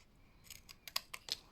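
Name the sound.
scissors cutting paper card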